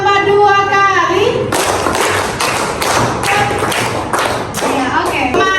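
Children in a classroom clap a counted rhythm, a series of sharp, loud claps in regular groups following a harmonic voice at the start, with faint chatter under the claps.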